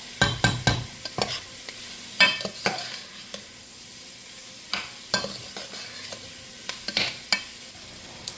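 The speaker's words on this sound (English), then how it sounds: "we're stirring this until it browns all together" Food stirred in a sizzling pan until browned, a soft frying hiss broken by loud, irregular scraping and clanking of a utensil against the pan, close up with no speech.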